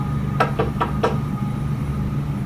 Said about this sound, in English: there was a knock at the front door